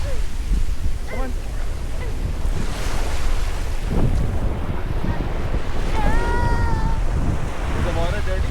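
Surf breaking on Lindquist Beach, St Thomas, Virgin Islands, forms a steady wash with wind buffeting the microphone, while people talk intermittently and someone whistles over it.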